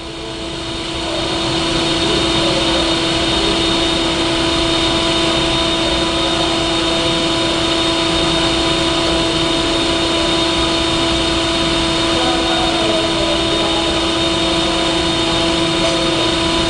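A Verteq 1800 spin rinse dryer loaded with a low-profile 8-inch cassette spins down, giving a steady loud mechanical hum with fixed tonal whine lines that continue evenly for the whole stretch.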